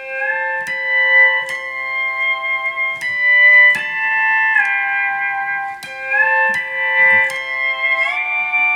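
Pedal steel guitar chimes picked with a stiff nylon thumbpick: bright bell-like harmonics struck one after another, each ringing on and sliding slightly in pitch, clear and close with no talking.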